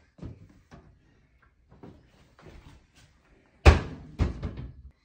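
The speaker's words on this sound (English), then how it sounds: "The first step to drinking water is getting a cup." A cup is taken from a kitchen cupboard: a few soft taps and shuffles, then a sharp wooden bang of the cupboard door closing and some lighter knocks afterward, close and otherwise quiet.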